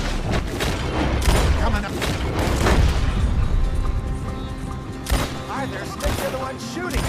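Gunfire in the Red Dead Redemption 2 video game: a rapid volley of loud shots and booms, then a few sharper separate cracks, with voices talking over it.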